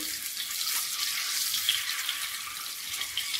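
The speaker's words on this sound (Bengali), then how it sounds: "ডিম ভেজে নেব উঠিয়ে পাঠিয়ে" Eggs frying in a pan for egg biryani, a steady close hiss and crackle of sizzling oil with no talking.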